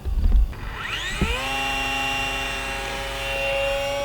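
An Eachine P-47 RC airplane's electric motor whines up sharply after a brief thump, then holds a steady, loud, high-pitched drone that stays close and fairly constant.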